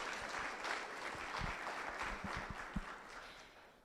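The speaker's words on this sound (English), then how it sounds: "Please give them a round of applause" Applause from an audience at a business discussion on auto manufacturing, heard faintly and somewhat distant as a soft steady patter with a few louder claps, fading toward the end.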